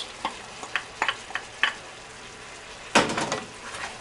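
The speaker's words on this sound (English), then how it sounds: "I'm going to go ahead and mix this together thoroughly" A utensil stirring oyster sauce, fish sauce and red pepper mix in a pan for spicy pork, light taps and scrapes followed by a louder swish and faint sizzle, close by.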